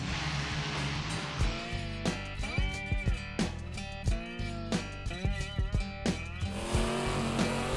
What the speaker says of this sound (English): Purpose-built vehicles create thousands of horsepower using turbos and superchargers, alcohol fuel, and multi-engine configurations to see who can pull the farthest.